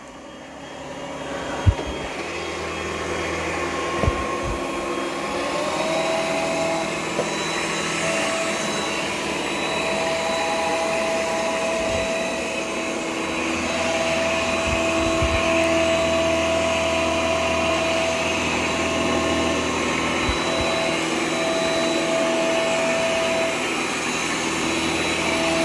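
An ECOVACS DEEBOT N10 Plus robot vacuum runs on carpet at max plus suction, giving a steady, moderately loud whir with brushing hum and faint tonal whines, plus a few light bumps and clicks as it moves.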